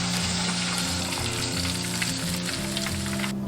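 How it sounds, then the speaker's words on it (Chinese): Black tiger prawns deep-fry in oil over medium-low heat in a small milk pan, giving a steady, dense, close sizzle that carries on alone without talk. "炸虾的话，我们不需要去动它，让它静炸3分钟就熟了。"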